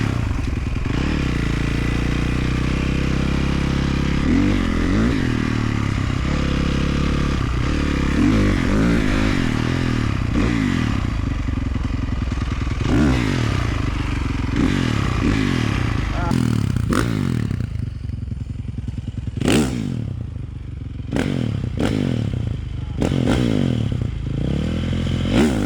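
EFI 450 single-cylinder dirt bike engine running close by, a loud thumping exhaust that rises and falls with throttle, with some clattering and scraping, while someone talks over it.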